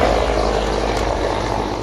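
A military helicopter carrying India's Chief of Defence Staff flies into fog moments before crashing, its rotor and engine a loud, continuous, close-sounding drone with no breaks.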